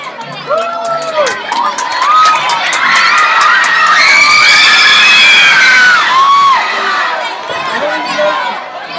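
A school crowd of children at the Colegio Eloy Ortega cheers and shouts loudly for the band, a sustained excited roar of young voices that swells through the middle and stays dense to the end.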